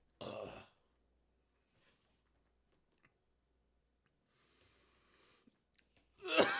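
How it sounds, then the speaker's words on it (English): A short throaty cough-like burst near the start, quiet faint clicks in between, then another harsh burst at the end. "got a little cough"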